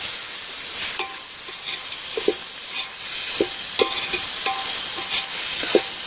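Ginger garlic paste sautéing in a pan for village-style plain biryani, a steady hiss of frying broken by sharp clinks and scrapes of a spatula, close and with no voices.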